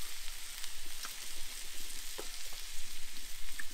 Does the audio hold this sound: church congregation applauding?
no